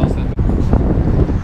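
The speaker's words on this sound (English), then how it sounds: "It's a little windy. I don't know if the wind noise, I don't think it'll be bad." Steady wind buffets an outdoor microphone on a rainy day during a cast-net trip for mojarra bait, a continuous low rumble with one brief dropout near the start.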